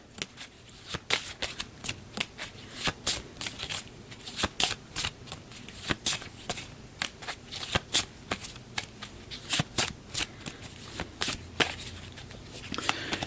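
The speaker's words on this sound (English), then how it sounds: "So we'll give that another crappy shuffle." A deck of cards shuffled by hand during a dungeon card game, a long run of steady crisp slaps and riffles repeating at a quick regular pace, close and clear with no voices.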